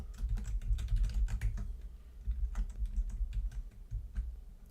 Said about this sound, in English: I need like a silent keyboard so I can type without muting my mic.